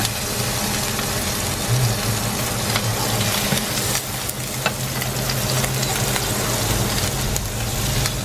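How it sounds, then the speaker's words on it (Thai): A steak fries in butter in a pan, sizzling loudly and steadily throughout with small crackles and spatters close by. "ให้มันสุกด้วยเนย"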